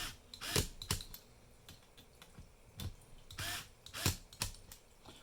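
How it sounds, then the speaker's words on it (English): Screws being driven into the frame of a Tamiya King Hauler model truck, a close series of short scratchy clicks and ratcheting bursts in uneven clusters, with no voices. "I'm just going to keep tightening all of our screws down here."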